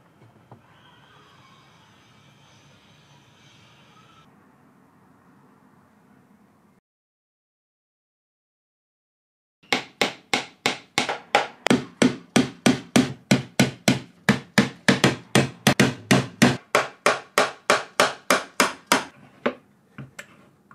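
Hammer driving nails into wooden boards of an indoor planter container, a rapid run of about thirty loud, sharp, evenly spaced knocks after a quieter stretch of muffled handling noise and a brief silence.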